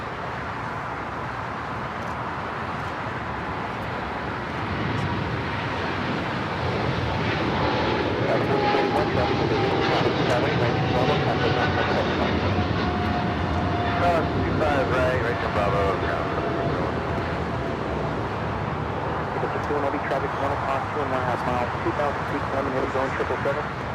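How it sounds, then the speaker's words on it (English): An Eva Air Cargo Boeing 777 freighter takes off from runway 25 right at LAX, a steady broad jet engine roar building and holding loud throughout, with air traffic radio talk over it. "the Eva Air Cargo 777 freighter now rolling down to 25 right"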